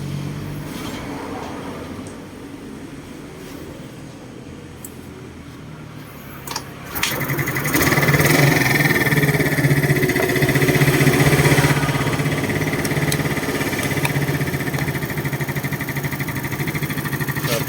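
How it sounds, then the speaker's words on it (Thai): A Yamaha Mio Fino motorcycle with a carburetor idle fault starts after a quiet stretch of faint shuffling, then settles into a steady, close, moderately loud idle hum that carries on to the end without talk. "เดี๋ยวเราก็มาสตาร์ทแล้วก็ปรับจูนกันดูนะครับผม"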